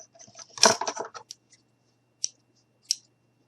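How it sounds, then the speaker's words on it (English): Scissors snipping craft material for a Thanksgiving gnome, a close cluster of crisp cuts followed by two isolated sharp snips in a quiet room. "so I am going to use my scissors."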